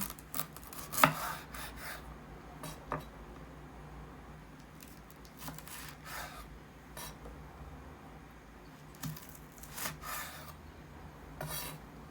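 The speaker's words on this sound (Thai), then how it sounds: "ต่อไปที่หั่นพริกนะคะ" A knife chops and scrapes on a cutting board slicing chili peppers in repeated rasping strokes, close and fairly quiet, with a few sharper taps mixed in.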